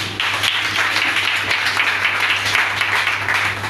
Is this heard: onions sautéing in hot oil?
no